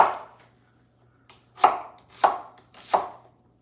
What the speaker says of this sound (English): I'm gonna switch knives because I'm not liking this knife for onions